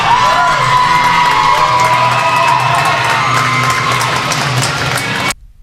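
An arena crowd cheering for figure skaters from a skating club, loud sustained cheers, whoops and yells with whistles layered over the roar, cutting off abruptly at the end.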